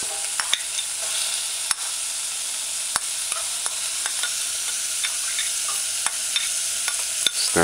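Soaked chickpeas are stirred into a codfish and pepper stew in a pot, giving a soft, continuous sizzle broken by several sharp utensil taps against the pan at irregular intervals.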